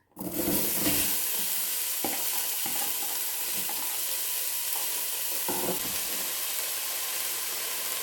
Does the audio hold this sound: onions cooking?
yes